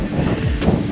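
Strong wind on Roys Peak near Wanaka, New Zealand, buffets the microphone in a loud, low rumbling gust lasting under a second.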